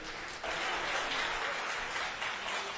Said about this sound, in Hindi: तो एक ताली मेरे लिए भी बनता है।